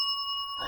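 A bell given as a toy to a cat rings close by, one clear metallic ding with a sustained bright ringing tone that holds steady and then fades under a light rustle.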